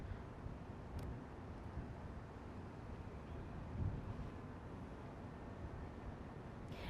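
Wind blowing across a rooftop in downtown Minneapolis, a steady broad rush and buffeting of the microphone, moderately loud and unbroken, with no voices.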